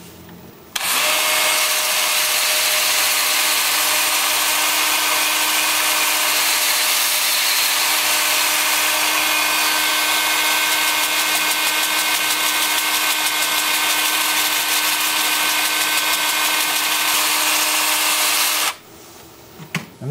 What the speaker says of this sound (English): Then with the 2-inch disc sander, the lathe spinning forward, we'll go about 380 RPM.